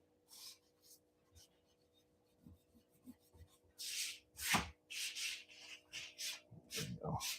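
An eraser rubs over a pencil sketch on paper at a desk, scratchy strokes in short bursts building to steadier rapid scrubbing, close and fairly soft.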